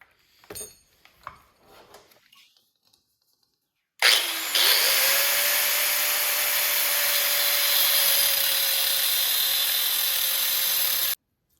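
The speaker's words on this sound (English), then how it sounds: "just take a cutoff wheel and cut this little section out right here" After a few quiet handling knocks, a cutoff wheel spins up and grinds steadily and loudly through a section of a car hood hinge, a continuous harsh high-pitched whine that stops abruptly at the end.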